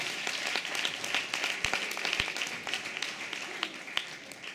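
An audience claps at a dance festival show, with a steady wash of applause and scattered louder individual claps running throughout, plus faint voices underneath.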